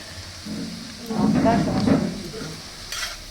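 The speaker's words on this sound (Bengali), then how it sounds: "পেঁয়াজটা ভাজা ভাজা হয়ে গেছে প্রায়" Onions fry in a pan for a pineapple hilsa fish dish, a moderate sizzle that swells in the middle with some stirring scrapes, then fades.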